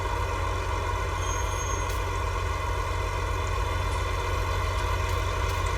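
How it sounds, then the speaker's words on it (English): A farm tractor engine idles with a steady, even low rumble throughout, close by and with no voices. "Jump back aboard the tractor"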